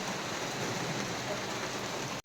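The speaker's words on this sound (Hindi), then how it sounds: "भयंकर की बारिश हो रही है, तो अचानक से बारिश आ गई है और ये पानी की बूंदें," Heavy monsoon rain pours down over a housing society courtyard, a dense, steady hiss of drops hitting surfaces close by with no pauses and no voices.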